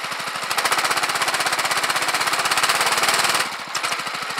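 An engine-driven induction motor generator revs up with a rapid, loud, evenly pulsing chug that holds steady for several seconds, then drops back briefly before the rhythmic knocking resumes.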